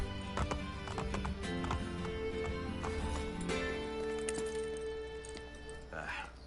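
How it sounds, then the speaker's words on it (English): Horses gallop with steady clip-clop hoofbeats and an occasional whinny in Assassin's Creed Brotherhood, the rhythmic hooves running throughout beneath game music and some voices. "I can no longer keep up with the horses."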